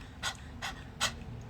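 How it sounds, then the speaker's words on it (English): A person pants like a dog as a breathing exercise, three short, breathy puffs spaced evenly and close to the microphone, with no talking. "Practice panting like a dog."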